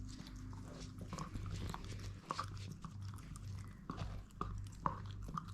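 A puppy gnaws on a bone smeared with peanut butter, making quiet, irregular crunching and wet chewing sounds over a steady low background hum.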